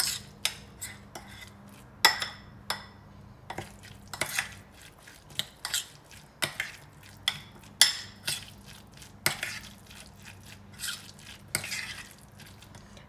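A spoon scrapes and clinks around a bowl of avocado salsa made with green chilli and lemon, a steady run of close, sharp taps and stirring strokes repeating through the whole stretch.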